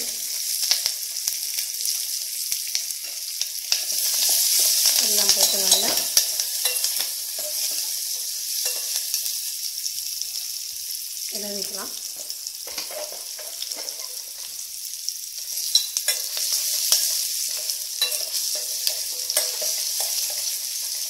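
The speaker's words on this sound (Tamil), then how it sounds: "ஆனியன் கொஞ்சம் வதங்கட்டும் கொஞ்சம் வதங்கினதுக்கப்புறம் மிளகா போட்டுக்கலாம்" Onion and garlic sauté in oil with asafoetida for a moong dal sambar, a steady hissing sizzle close by, with a couple of louder stirring scrapes around the middle and no speech.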